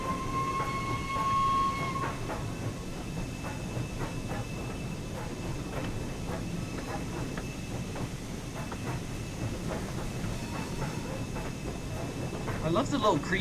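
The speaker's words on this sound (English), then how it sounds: "Some whistle action for the rail fans." A Flying Scotsman steam locomotive in a train simulator on the West Somerset Railway gives a short whistle near the start, over a steady rolling, hissing train background with occasional voices.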